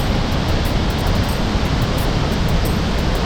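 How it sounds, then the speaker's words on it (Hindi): A large waterfall sends thousands of gallons of water crashing onto hard rocks beside a hydroelectric project, a loud, steady, broadband roar that fills the whole clip without a break. "हज़ारों गैलन पानी ऊपर से गिर रहा है।"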